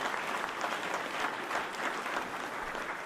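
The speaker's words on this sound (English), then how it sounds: "Give that a round of applause." Steady crowd applause fills the space, dense clapping from many hands at an even, sustained level with no pauses.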